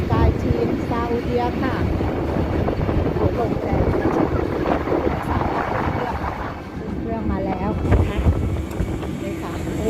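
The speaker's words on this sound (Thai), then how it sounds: "ลมแรงมากนะคะลมแรงจริงๆค่ะ" Strong wind buffets the microphone on an airport apron near a passenger bus and aircraft, a rough low rumble running continuously beneath someone talking and distant engine noise.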